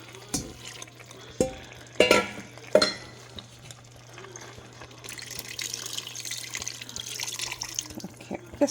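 Water splashes and trickles into a pressure cooker holding mutton curry for mutton pulusu, a few sharp knocks of a vessel at first, then a steady soft pouring hiss, fairly close and quiet, with no voices.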